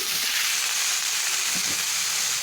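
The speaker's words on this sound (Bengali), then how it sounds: "এখন ওই তেলের সঙ্গে আমি পাঁচ ফোড়নটাকে ফোড়ন হিসাবে দিয়ে দিলাম" Panch phoron seeds hit hot oil in a steady, loud, dense hiss and crackle that holds evenly at close range for a couple of seconds, with no voices.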